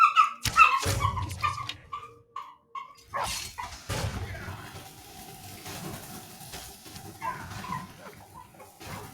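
A dog barks several times in the video game Skyrim, short close yelps early on, followed by quieter scuffling, rustling and background game ambience.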